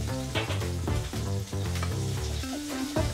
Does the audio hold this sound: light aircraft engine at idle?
no